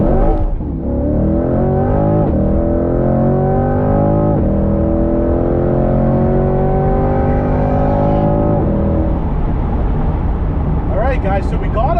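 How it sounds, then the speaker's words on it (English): A Lamborghini Aventador's V12 engine accelerates hard in a race against a C8 Corvette, loud and close, with rising harmonic tones climbing through repeated gear shifts at roughly two-second intervals before easing off, and a voice briefly heard near the end. "That would be that V12 kicking in"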